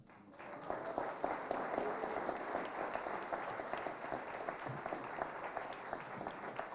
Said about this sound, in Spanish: Es el aplauso para nuestro presidente Ebencio Flores